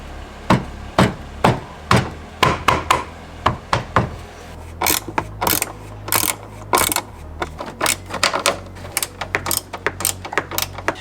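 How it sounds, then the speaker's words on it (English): Screw being driven back in after fitting new taillights to a 2024 Tesla Model Y, a run of sharp close clicks and ratcheting taps in uneven bursts, with no talking. "now we just have to put the screw back in"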